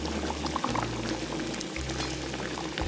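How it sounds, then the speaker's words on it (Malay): Half a tin of F&N creamer poured into simmering beef biryani gam gravy, a steady close liquid pour over a bubbling, boiling pot, continuous for a few seconds with no talk. "Tuang masuk setengah tin."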